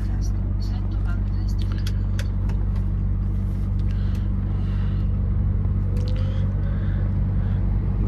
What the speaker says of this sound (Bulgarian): Сега ще преместиме камиона малко назад.